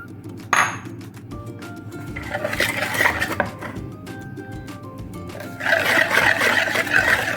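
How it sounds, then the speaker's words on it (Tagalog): Spoon clinking and scraping against a bowl while fresh milk and white sugar are stirred together for a cake, busy metallic chinks and swirling rubs up close, growing denser toward the end. "Mix lang natin maigi para tunawin lahat ng sugar."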